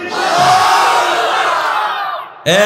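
A large crowd at an Islamic sermon gathering in Madaripur roars the takbir response "Allahu Akbar" in one loud, sustained collective shout. A single voice cuts in sharply right at the end.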